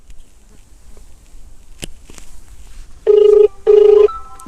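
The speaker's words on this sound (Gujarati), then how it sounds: "અને આ રિંગ એની અંદર વાગે છે" A mobile phone buried inside a heap of buffalo dung rings outdoors, two muffled tonal rings near the end, each lasting about half a second, after quiet rustling and a few clicks.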